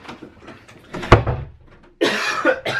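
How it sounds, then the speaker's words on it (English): A person coughs sharply once at close range, a single loud burst standing out against faint background noise, followed by a louder rustling, clattering stretch. "cough."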